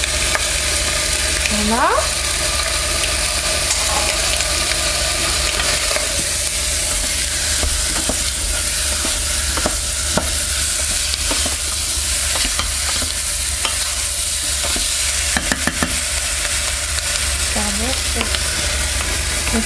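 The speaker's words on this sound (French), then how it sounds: "Alors je mets mes oignons émincés." Sliced onions for poulet basquaise sizzle and hiss steadily in a hot pan, loud and close, broken by a few brief stirring scrapes, with one short spoken word near the end.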